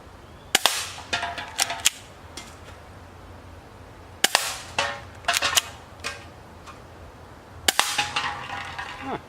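Crosman Stinger P311 airsoft pistol firing 0.20 gram BBs at cans from about 25 feet, three clusters of sharp snapping shots with quick follow-up clicks and rattles, spaced a few seconds apart with quiet between.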